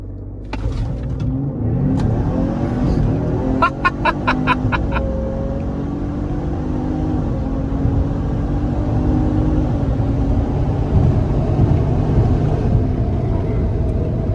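A tuned stock Lincoln Aviator launches hard from a brake-torque hold, its engine rumbling loudly and rising through an upshift as the car pulls away, heard up close from inside with steady road roar beneath.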